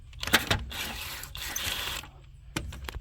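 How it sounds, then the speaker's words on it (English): An impact wrench spins off the plastic hubcap lug nuts on a 2003 Chevy Malibu. Two short mechanical bursts frame a longer rattling whir in the middle, close and moderately quiet, with no voices. "Now I don't even need to use an impact for these"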